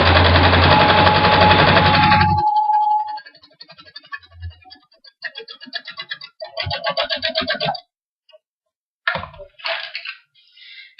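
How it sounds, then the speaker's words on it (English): A sewing machine stitches a quilt half-triangle square, with short whirring bursts of stitching separated by pauses, close and fairly loud after a brief opening noise. "Now you want to sew 1/4 inch from each side of that drawn line."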